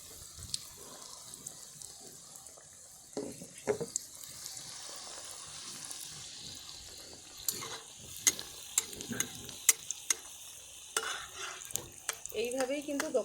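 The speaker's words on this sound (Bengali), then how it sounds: "এখানে আমি দুটো বড় দিয়েছি আর একটা ছোট দিয়ে একসাথে তিনটে করে ভেজে নেব।" Eggplant fritters (beguni), two large and one small, frying together in oil with a soft, steady sizzle, broken by occasional scraping and stirring clicks from a utensil, quiet and close, with no talk.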